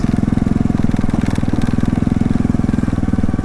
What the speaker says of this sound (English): this is what the trail bike was designed for.